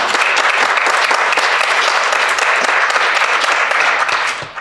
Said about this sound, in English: Clap it up for Chad Lemoyne.